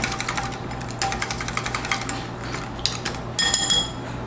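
A utensil stirring powdered sugar and orange into a glaze in a bowl, giving rapid rhythmic clinks and scrapes, close and steady, ending with a few sharper taps.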